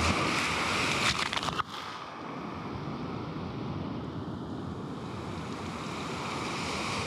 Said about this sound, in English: the incoming waves to rush up and splash any absent minded and unsuspecting tourist